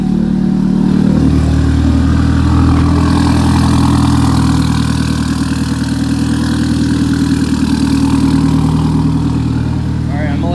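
Car engine idling just after a cold start after sitting a couple of days, a loud, steady, slightly rough low drone close by that runs throughout, with a voice talking over it.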